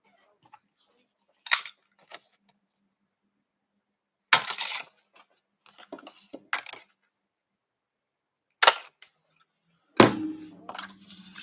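Sharp punch strikes from a paper punch cutting a Christmas gift tag, several isolated clacks spaced a few seconds apart, close and crisp, with the last one ringing out a little longer.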